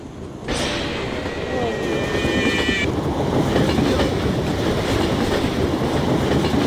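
Video game train rolling in to crush nightmare animatronics, a loud steady rumble with a shrill whistle-like tone in the first seconds; a voice talks over it.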